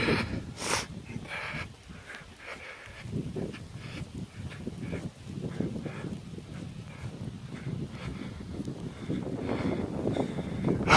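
Gusty wind buffets the microphone in uneven bursts, a low rumbling rush rising and falling, with faint quacking ducks somewhere in the distance, at the base of a rock arch in Canyonlands National Park during warm, cloudy, rainy weather.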